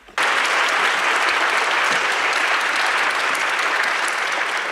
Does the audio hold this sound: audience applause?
yes